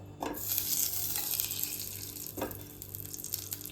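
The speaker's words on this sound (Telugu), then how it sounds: "నెయ్యి వేసుకొని కొబ్బరి ముక్కలు అన్నీ వేయించుకోవాలి" Soft, steady sizzling of coconut pieces frying in ghee, with a few faint clinks from a utensil.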